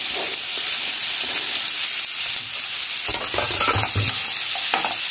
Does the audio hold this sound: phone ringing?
no